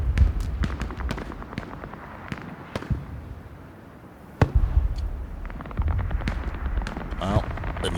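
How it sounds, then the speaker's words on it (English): Bursts of DP Russian machine gun fire in a Hell Let Loose battle, rapid sharp cracks in short volleys with a loud close burst midway, over constant rumbling battlefield noise and distant gunfire. "Ekarin using the DP. Russian machine gun to good effect there."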